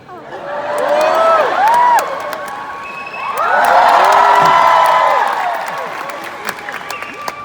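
Concert audience bursting into loud applause and cheering at a show in Auckland, in two swelling waves with whoops, clapping and shouts from a large crowd, with a singing or talking voice faintly underneath.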